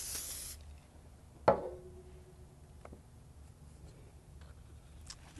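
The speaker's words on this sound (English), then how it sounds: "lightly mist it with the Pro Spray" A brief spray-bottle mist burst at the start, a short hiss before a sharper tap and quieter handling noises, while a sublimation transfer for a notebook is prepared.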